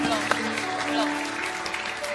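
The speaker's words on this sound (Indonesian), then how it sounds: "Oke, tepuk tangan semuanya." Studio audience of an Indonesian comedy variety show claps steadily throughout, a dense wash of applause with a few sharper accents, overlaid by music and background chatter.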